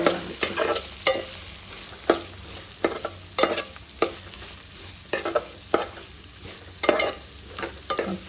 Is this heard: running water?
no